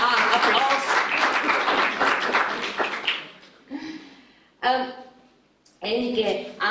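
An audience at a book presentation applauds a co-author, a burst of clapping that fades after about three seconds, followed by someone speaking.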